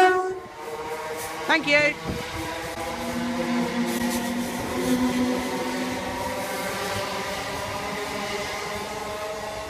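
A train rumbles past close by at Southend Airport station with a steady low roar and harmonic whine, a short horn blast near the start and a brief spoken word.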